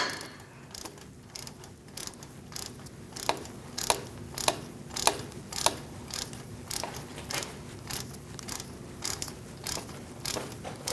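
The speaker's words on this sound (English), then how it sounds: "Using a 10mm socket, I'm going to remove this bolt" A ratchet fitted with a 10mm socket backs out a bolt on a 2002-2006 Toyota Camry front brake assembly, making a quiet, regular series of sharp clicks that repeat at an even pace.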